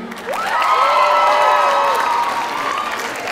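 Cheering and whooping rise from a crowd at a university commencement ceremony, a sustained swell of voices with clapping blended in.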